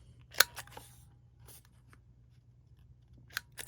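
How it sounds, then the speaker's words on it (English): Small corner rounder punch clipping the corners of paper, a few sharp crisp snips spaced apart in a quiet room. "I think I'm going to just use this small corner rounder"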